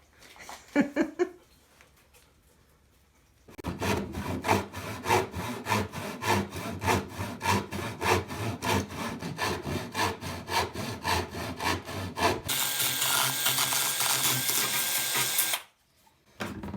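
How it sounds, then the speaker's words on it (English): A small power sander buzzes against wood in quick repeated strokes, then settles into a louder continuous whir before cutting off abruptly. "It's a most amazing little sanding tool there."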